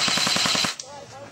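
A short burst from an electric airsoft gun fires about eight rapid, evenly spaced shots in under a second, close and loud, followed by a quiet pause and a faint voice.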